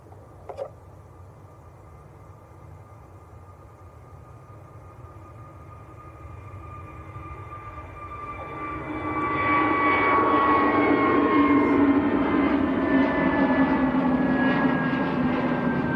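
An EasyJet airliner bound for Sharm el Sheikh takes off from Manchester Airport: a faint distant hum and whine swells gradually, then surges into a strong, sustained engine roar with rising tones, a brief click near the start, no speech.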